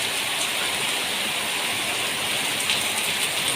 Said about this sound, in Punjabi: ਇੰਨਾ ਮੀਂਹ ਪੈ ਰਿਹਾ